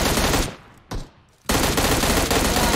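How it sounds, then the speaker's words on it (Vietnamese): Loud automatic gunfire from two bots shooting at each other in PUBG Mobile, a dense sustained burst that breaks off briefly, leaves a short single shot in the gap, then resumes as continuous rapid fire to the end. "Hai con bot bắn nhau"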